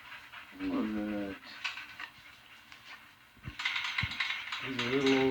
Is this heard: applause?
no